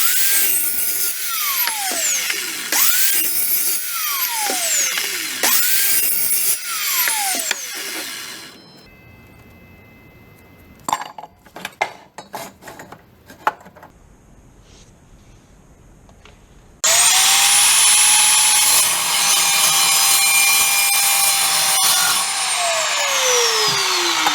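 An Evolution S355CPSL chop saw cuts through steel, its loud high-pitched whine and grinding screech rising and falling over repeated cuts, a quieter stretch of clanks and handling noises, then a long sustained cut as the blade winds down.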